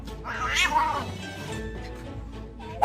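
Cats meowing and caterwauling loudly in a tense standoff, one cat bullying a dog while another cat steps in; harsh, drawn-out wails up close with no talking.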